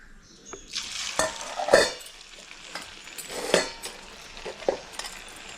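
Murukku made from raw rice flour fries in hot oil with a light sizzle, broken up by frequent clinks and scrapes of a metal utensil against the pan.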